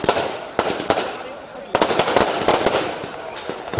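Fireworks at the close of a folk song show, a run of sharp crackling bursts and pops of varying loudness, some close and loud, with voices and crowd noise mixed in.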